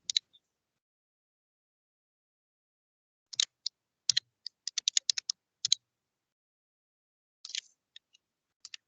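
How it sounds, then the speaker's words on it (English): Computer keys are typed in scattered short bursts of crisp, close clicks separated by silent pauses, some quick flurries and some single taps, with no voices. "You can type send on the keyboard."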